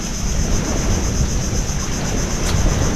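Steady, roaring wind buffets the microphone without a break, a constant low rumble with no voices over it.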